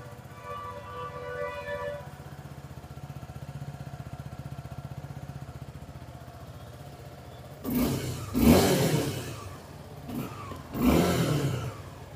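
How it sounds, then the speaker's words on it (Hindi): A 2024 Suzuki Gixxer SF 250 sport motorcycle's 250cc engine idles with a low, steady putter, then revs sharply twice in loud bursts close by. "और बात करें इस बाइक के इंजन साउंड की"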